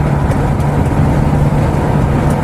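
Mercedes Sprinter van under way, heard from inside the cab: a loud, steady engine drone and road rumble that hold even throughout, with no talk.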